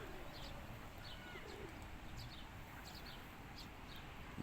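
Several pigeons in Spain coo softly at a distance over a constant low rumble of background noise, with faint repeated calls spread throughout.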